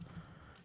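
Fingers type on a computer keyboard in a short, quiet burst of a few soft clicks with no voices.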